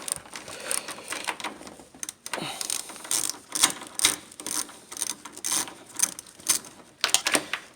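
A ratchet with a 10mm socket works a bolt loose on a 2004 Infiniti G35 during radiator cooling fan removal, making close, sharp, repeated clicking bursts in uneven spurts with short pauses between.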